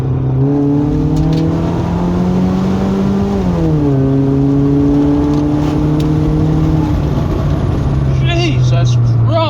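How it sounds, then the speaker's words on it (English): A Mercedes-Benz Kompressor with a modified airbox accelerates hard, its engine and supercharger whine rising steadily in pitch, dropping at a gear change and then climbing again, loud and continuous from inside the car. "You can hear that supercharger."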